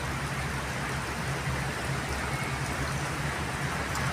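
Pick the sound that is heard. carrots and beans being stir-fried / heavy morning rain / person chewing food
heavy morning rain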